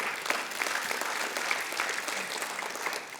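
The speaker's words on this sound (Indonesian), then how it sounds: "berikan tepuk tangan buat Tuhan" A church congregation bursts into sustained applause for God during a sermon, many hands clapping together in a bright, continuous roar with a few sharper claps standing out.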